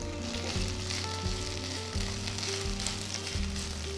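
Fresh mint leaves sizzling in a teaspoon of sesame oil in a pan, for a green masala paste: a dense, steady crackling sizzle, close and continuous, with no voices over it.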